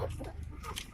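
Chickens clucking close by on a farm, one bird recovering from a twisted-neck ailment, a short run of low throaty clucks over steady background noise.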